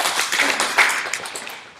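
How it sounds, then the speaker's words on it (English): Audience applause, a short burst of many hands clapping together, fairly close and fading toward the end, with no talk over it. "Clap it up for Thaddeus"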